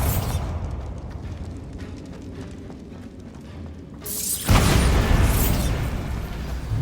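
A Bombarda spell bursts against a barricade in Hogwarts Legacy with a loud, sudden blast about four seconds in, followed by rumbling debris after quieter mechanical shuffling.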